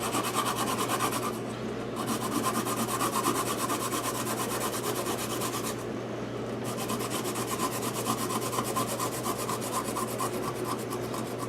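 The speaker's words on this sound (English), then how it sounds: "Grate that right down to the nothing." Food is grated by hand on a grater for a hot pot meal, a steady close rasping scrape in repeated strokes with two brief pauses, no talk.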